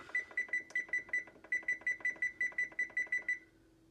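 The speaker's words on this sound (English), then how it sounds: "I am going to set a timer here." A kitchen timer alarm beeps in quick repeated bursts, about twenty sharp electronic pulses with a short pause midway, then stops, heard alone in a quiet room.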